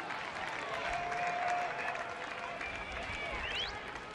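A baseball stadium crowd applauds and cheers through a late-evening game, a broad, steady roar of clapping heard from a distance, with faint talk underneath.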